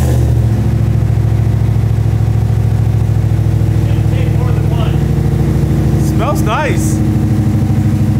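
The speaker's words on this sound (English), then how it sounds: "it's not too loud of a cold start" A Toyota Supra engine running on E85 after a cold start idles loud and close with a steady, low, thrumming rumble, while someone briefly speaks over it.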